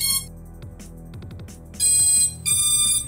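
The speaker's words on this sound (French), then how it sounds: "Ça s'allume, il y a tous les bips, donc c'est impeccable." Electronics on an RC model airplane (Mini Fusion 3.5) powering up during a smoke-stopper test before the LiPo is connected, giving a sequence of clear electronic beeps and tones, fairly loud and close, with brief pauses between groups.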